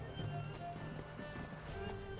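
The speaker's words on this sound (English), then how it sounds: "Here's my horse." Horse hooves clip-clop in the video game Witcher 3, quick muffled steps mixed into dense game sound and music at low level.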